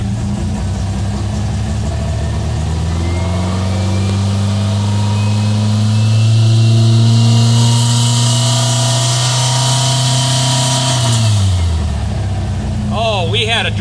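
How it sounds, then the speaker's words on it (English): A motorcycle engine fitted with a Blues 39mm carburetor revs up from idle, holding a steady loud drone for several seconds before dropping back to idle. The engine runs alone. "Let me rev it up."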